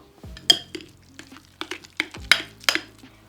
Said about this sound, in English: you want to mix this up really well because this is going to be your filling